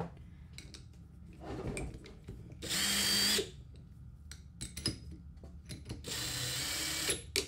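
A power drill bores into a control panel during a build, running in two sustained, loud whining bursts separated by quieter handling clatter, with no talking.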